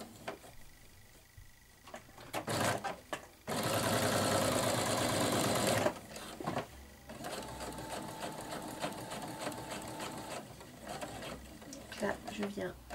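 A domestic sewing machine topstitches along the top edge of a dress pocket, running in short bursts and one steady stretch of rapid needle clatter, with someone speaking quietly between runs.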